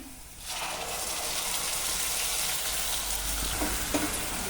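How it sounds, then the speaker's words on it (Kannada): Onions sautéing in hot oil over medium flame for egg curry, a dense continuous sizzle that starts abruptly after a brief quiet moment, with a few faint stirring clicks near the end, close and steady. "ಸ್ವಲ್ಪ ಬಾಡಿಸ್ಕೊಳ್ಳೋಣ ಎಣ್ಣೆ ಬಿಡೋವರೆಗೂ ಒಂದು ಐದು ನಿಮಿಷ ಬಾಡಿಸ್ಕೊಳ್ಳೋಣ"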